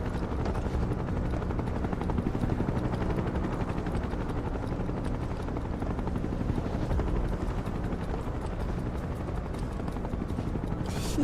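Helicopters in a video game drone steadily with a loud, continuous rotor chop that holds at the same level throughout, close and unbroken, with no voices over it.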